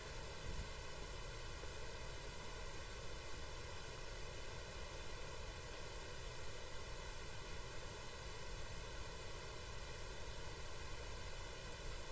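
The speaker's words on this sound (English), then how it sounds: "Okay, so I'm doing that with pink noise." Pink noise test signal played through a pair of loudspeakers, a steady, dense broadband hiss holding at an even level throughout with a faint sweeping comb-filter colouring and no speech.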